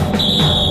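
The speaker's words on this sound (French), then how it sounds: "L'arbitre siffle la fin de la première mi-temps." A referee's whistle in the Inazuma Eleven anime signals the end of the first half of a soccer match, one sustained shrill tone that starts abruptly and holds steady over a low background rumble.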